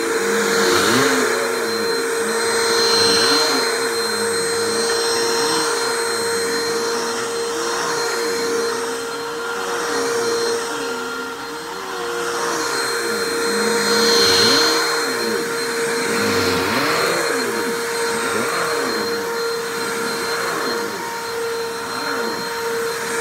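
A Bissell Easy Vac vacuum cleaner runs continuously up close, giving a loud steady motor whine and airflow roar with rhythmic surges as it is pushed back and forth.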